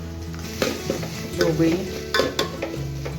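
Cooked vegetables, including softened green peas, are mashed in an oiled pan for pav bhaji, with irregular scraping, clanking strokes of a utensil against metal over a low sizzle; a voice briefly speaks.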